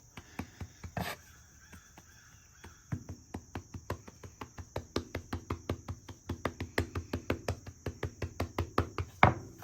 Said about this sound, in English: You're just gonna knead this back into a ball.